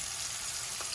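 Fish frying on paper in a pan gives a steady, even sizzle that is close and continuous for the whole moment, with no talk over it.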